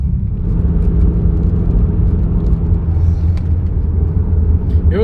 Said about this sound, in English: This car's running absolutely amazing though.